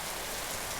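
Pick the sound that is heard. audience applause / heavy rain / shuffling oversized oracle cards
heavy rain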